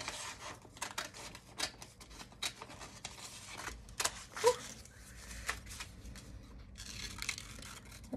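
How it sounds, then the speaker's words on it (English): Scissors snip through craft paper to cut out a leaf shape, soft close crunching cuts in an uneven rhythm with faint rustling between them. "Now I'm going to cut this leaf."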